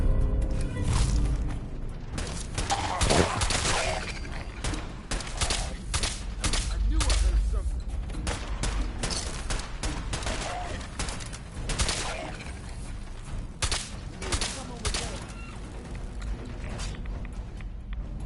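Radium rifle fire in Fallout 4 crackles in rapid, dense bursts of gunshots throughout, loud and close, with a voice talking intermittently over the shooting.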